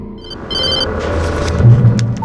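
A telephone rings in the video game Alan Wake, a bright trilling bell in two short bursts over a low droning ambience, with no voices.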